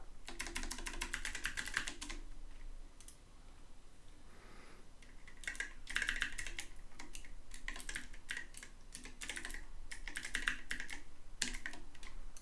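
Someone types steadily on a custom-built computer keyboard in dense bursts of clicky keystrokes, with a short lull in the middle. The sound is close and clear, with no voices.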